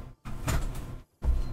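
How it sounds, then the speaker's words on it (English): A room window is slid open, giving a short broadband scrape with a sharp gap either side; a broad, fairly loud rush follows, close by and with no voices. "I'm gonna open my window."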